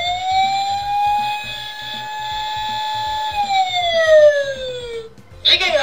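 A Tomica Town toy playset's tinny electronic police car siren holds a steady high tone and then slides downward, over rhythmic mechanical ticking, ending with a brief click.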